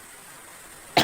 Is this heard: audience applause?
no